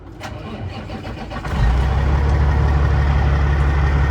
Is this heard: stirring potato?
no